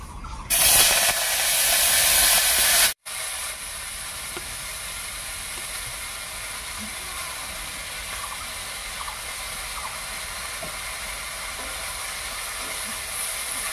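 Loud sizzle that cuts off abruptly, then a continuous hiss of thankuni (Asiatic pennywort) leaves frying in hot oil for the rest, with no talking.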